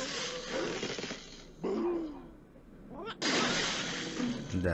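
In the video game Angry Birds Star Wars 2, falling parts blow up in two loud, crashing bursts of explosion and shattering debris, with a short quieter gap between them.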